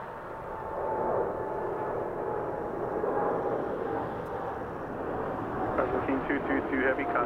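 A cargo airplane departs a runway at Los Angeles International Airport, a steady broadband engine roar holding at moderate distance and swelling slightly toward the end, with a voice talking over it.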